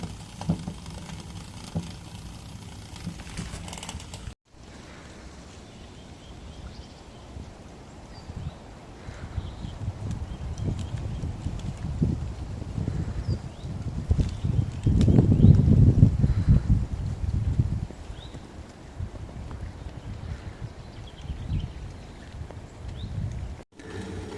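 An alcohol stove made from a can, burning damp fuel as it boils water outdoors, gives off a rough, continuous hiss and roar that swells in the middle and carries on steadily, with no speech.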